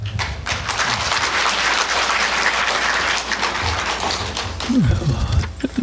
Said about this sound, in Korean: 큰 박수와 환호로 모시겠습니다